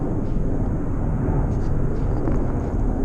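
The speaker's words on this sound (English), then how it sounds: "That right there would be V22 Ospreys. Stack of 3." Three V-22 Osprey tiltrotor aircraft flying over in a stack, a dense, steady low rumble with deep throbbing that stays loud and even for the whole stretch.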